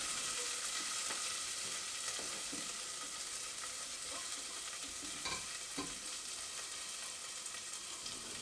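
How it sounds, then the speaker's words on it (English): Turmeric, garlic and green chilli fry in a pan for red lentil dhal, giving a dense, even, close sizzle with a few soft stirring scrapes and no talk. "So all of that goes into the pan and we start to fry that off, get the spices really flavoursome"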